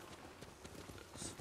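Horse hooves clip-clop in a steady, quiet rhythm while riding through a forest in the video game Ghost of Tsushima, with no talk over them.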